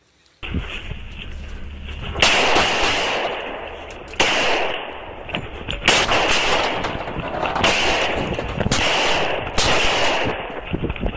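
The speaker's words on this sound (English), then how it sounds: "the suspect who was caught on dash cam footage in a shootout with Arkansas police" Gunfire recorded on a police dash cam during a shootout with Arkansas police, a loud sequence of repeated heavy shots and blasts spread over several seconds on top of a continuous roar.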